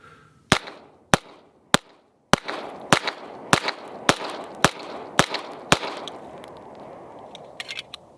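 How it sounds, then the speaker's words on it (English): Ten sharp gunshots from a Bul Armory 1911 Government 5-inch pistol chambered in 9mm, fired at a steady rhythm, loud and close, with brief ringing echoes and small metallic clinks after the string. "these are going to be my first rounds through the Bul Armory 1911 5-inch government model, chambered 9mm"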